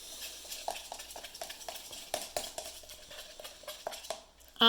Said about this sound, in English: And I'm going to stir in those sparkles.